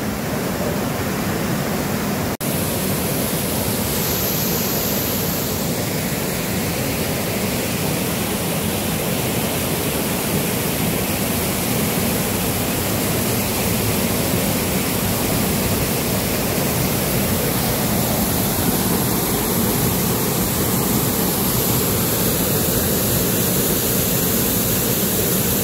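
Waterfall in Yongchu gorge at Juwangsan, Cheongsong, a dense, steady roar of falling water that holds constant and loud for the whole stretch, with no voices.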